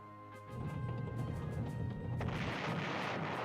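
Naval artillery firing in the retro strategy game Panzer General: a low rumbling boom rises and holds, then a harsher, brighter crash of impact noise takes over and sustains at steady loudness.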